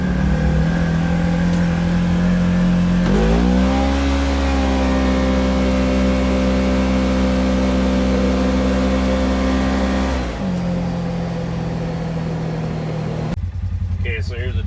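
A Polaris General XP side-by-side on 32-inch tires with Gilomen clutching pulls away gently from a dead stop in high range, its engine note rising and holding steady at close range, then easing off near the end.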